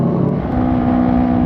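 A modified Yamaha R15 sport motorcycle with a loud aftermarket exhaust drones steadily and close, a loud, continuous engine tone that holds through the whole short moment.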